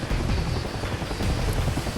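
Helicopter in DCS World powering down after landing, giving a loud, dense rotor and engine rumble that holds steady and close throughout, with no voices.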